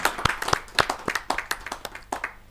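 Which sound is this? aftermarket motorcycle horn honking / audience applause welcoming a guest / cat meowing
audience applause welcoming a guest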